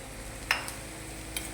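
Red chili powder, turmeric and coriander powder stirred and sautéed in a hot pan for a potato bhaji, a low steady sizzle with a couple of brief scraping stirs, close and alone.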